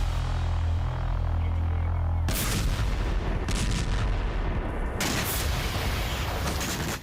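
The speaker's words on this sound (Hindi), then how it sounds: "कीव में मिसाइल हमले के दौरान कई धमाके हुए।" Heavy booming blasts from Russian missile strikes on Kyiv, the city under attack at night, with a dense rumbling roar and sharp bursts of explosive noise at about 2.3 and 5 seconds.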